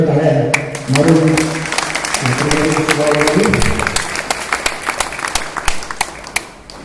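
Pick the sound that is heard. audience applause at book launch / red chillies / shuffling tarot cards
audience applause at book launch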